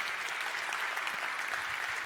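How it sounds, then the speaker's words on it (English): Steady audience applause fills the hall for the AV and backstage crew at a live conference, an even continuous wash of clapping throughout. "Please give a round of applause"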